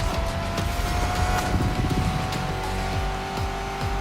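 Revving muscle car engine in a racing video game, steady loud motor drone with shifting pitch and brief tire squeals, no talking over it.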